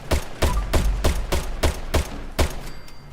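Anti-armor explosive Crusader pistol shots in Fallout 76: about eight loud, punchy explosive reports in a fast, steady rhythm, each with a heavy low thump.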